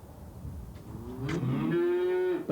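A cow lets out a single drawn-out moo that rises and holds, fairly close and clear against a quiet background.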